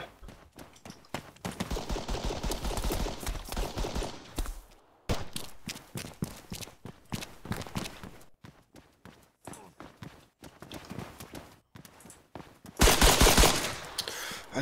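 Pistol shots in ARMA 3 battle royale, fired as dense rapid strings of sharp cracks that run in bursts with brief gaps, ending in a louder flurry, with no talk.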